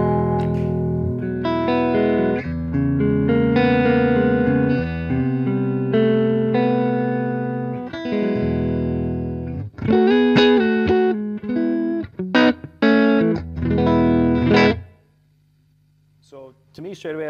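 Electric guitar played through a Line 6 Helix amp model with matching cab and mic, starting from a clean tone with effects switched in: sustained chords and ringing notes, then choppier stabs, ending on a low held tone.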